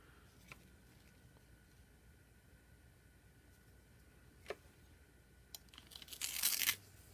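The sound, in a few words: cutting out clay slab box pieces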